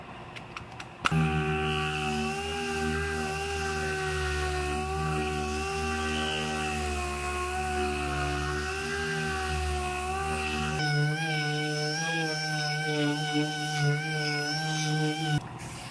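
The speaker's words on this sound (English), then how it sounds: "now I'm going to run over all the primed area with 400 grit, and I put it on this soft interface pad that goes on my DA" A dual-action sander runs with 400 grit on a soft interface pad over a primed area, giving a steady close whine with a pitch shift partway through as pressure or speed changes.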